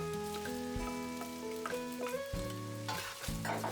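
Cooked rice frying in butter with garlic and spring onion, giving a steady close sizzle with scraping stirs and small crackles, while a faint tonal melody plays underneath.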